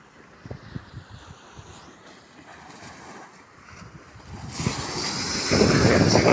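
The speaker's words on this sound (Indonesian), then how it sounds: "Angin udah mulai kencang ini" Strong wind gusting over the open sea around a small fishing boat, a steady rushing roar with splashing waves that grows noticeably louder and fuller toward the end, with no voices.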